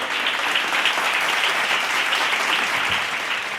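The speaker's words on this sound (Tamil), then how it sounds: "கைத்தட்டுங்க ஒரு தடவை." Church congregation clapping hands together at a healing service, a steady dense wash of applause throughout, fairly loud and even, with no talk over it.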